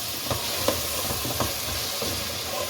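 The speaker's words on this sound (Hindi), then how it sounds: "अब मसाले के अंदर आलू को अच्छे तरीके से भूनें।" Sliced potatoes are sautéed in masala for aloo shimla mirch sabzi, making a soft, steady sizzle with faint stirring scrapes that recur every half second or so.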